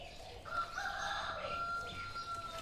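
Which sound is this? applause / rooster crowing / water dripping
rooster crowing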